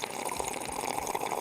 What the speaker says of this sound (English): You heard some ASMR water here?